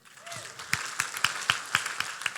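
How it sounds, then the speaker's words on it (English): A small crowd at a Queensland Senate candidate campaign event claps in a thin, scattered rhythm, the individual hand claps spaced and distinct, fairly faint and close. "Big round of applause for yourselves."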